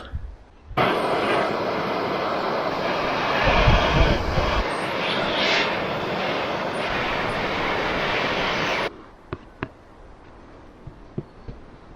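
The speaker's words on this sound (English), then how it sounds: "I'm just going to use the old propane torch to dry out any moisture that might be hiding in there" A propane torch dries moisture from a leaky aluminium boat hull. A loud, steady roaring flame runs for about eight seconds and then cuts off, leaving quieter surroundings and a few faint knocks.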